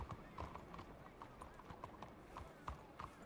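Horse hooves clip-clop at a steady walking pace in Red Dead Redemption 2, a faint, even rhythm of soft knocks under a constant bed of muffled voices and background noise.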